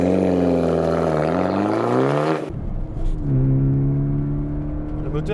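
A Fiat Punto Evo Supersport engine revs up through the gears, pitch rising then dropping at a shift, heard from inside the cabin on the road, loud and steady.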